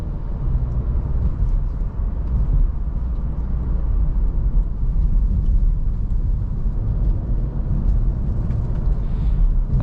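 Steady, loud low rumble of road and engine noise from inside a 2022 Audi A3 Premium Plus taking a series of corners, a continuous even drone with no talking.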